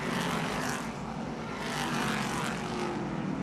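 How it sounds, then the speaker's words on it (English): A race car engine roars loud and continuous as it stumbles going into turn 3 at a NWMT Spring Sizzler 200 short-track race, a harsh uneven drone alone with no talk. "that car is gasping for air as it goes into turn 3"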